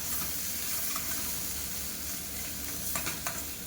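Gourd leaf paste ground with black cumin and green chilies sizzles steadily in a wok, with a couple of sharp utensil clinks near the end.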